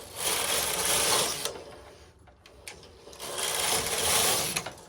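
Silver Reed knitting machine carriage pushed across the needle bed, dragging heavily, a loud close whirring clatter in two passes with a brief lull and clicks between them.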